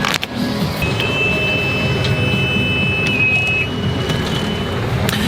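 A boat's diesel engines start up, a steady low engine drone with a single sustained electronic warning tone for low oil pressure sounding for a few seconds over it.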